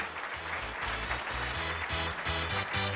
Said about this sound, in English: a big round of applause and welcome them up